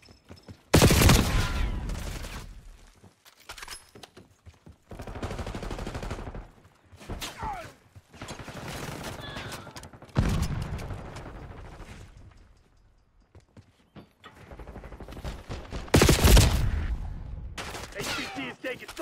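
Call of Duty Black Ops 6 multiplayer combat: loud, close bursts of automatic gunfire come in clusters separated by quieter gaps, with a few heavier booms, over a low game-sound backdrop.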